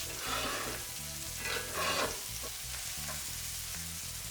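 Beef pieces sear in a pan for beef stroganoff, producing a continuous fairly quiet sizzle with brief swells and a low background hum, and no one speaking.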